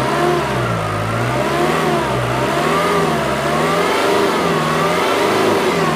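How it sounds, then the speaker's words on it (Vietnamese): A 2007 Ford Everest turbo diesel engine revs up and down repeatedly, loud and close, its pitch rising and falling in smooth waves over a continuous mechanical roar. "Máy nổ khá là êm chưa?"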